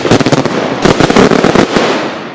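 Rapid crackling bursts of consumer fireworks set off at a backyard-style show, loud and close, popping in quick clusters with brief pauses between volleys.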